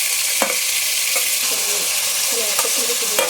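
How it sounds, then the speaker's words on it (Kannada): Onions and freshly added tomatoes for a quick chicken biryani sizzle loudly and steadily in a hot pan, with occasional spoon scrapes and stirring strokes breaking through the constant frying hiss. "ಇವಾಗ ಈರುಳ್ಳಿ ಫ್ರೈ ಆಗಿತ್ತಲ್ವ, ಟೊಮೆಟೊ ಹಾಕೋತಾ ಇದ್ದೀವಿ"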